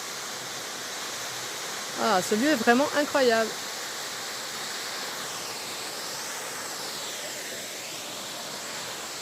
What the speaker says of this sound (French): Et du coup il y a la cascade qui coule